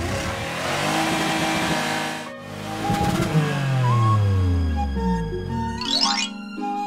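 A cartoon police monster truck revs its engine in rising and falling bursts over bright background music, loud and close, with a swooping tone near the end.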